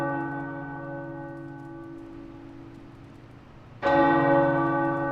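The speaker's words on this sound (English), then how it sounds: "The tower bells are ringing." Tower bells ringing in the video game Marvel's Midnight Suns, sustained resonant peals with a long decaying hum, then a fresh loud strike near the end, heard alone without speech.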